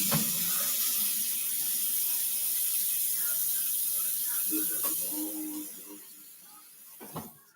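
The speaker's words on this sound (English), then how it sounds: "let me rinse the spoon." A spoon rinsed under a running kitchen tap while cooking a chicken and stuffing casserole, a steady rushing hiss of water that tapers off, followed by a couple of clinks.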